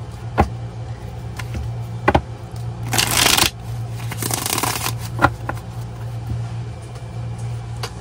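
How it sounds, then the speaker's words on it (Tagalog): A deck of tarot-style reading cards being shuffled by hand, with bursts of riffling and sliding cards close by against a steady low background hum and occasional taps. "Binabalasa ko lang po muna"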